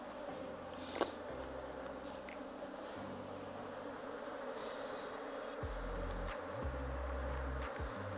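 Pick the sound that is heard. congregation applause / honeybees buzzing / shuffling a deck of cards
honeybees buzzing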